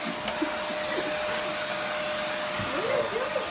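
A vacuum cleaner roars steadily and close by, with a faint steady whine and a few brief voice sounds over the motor.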